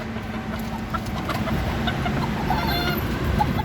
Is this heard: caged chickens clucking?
yes